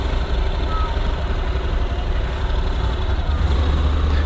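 A Honda NC750X DCT motorcycle idles in drive with a steady, close, low engine rumble and a faint high whine, running alone without talk.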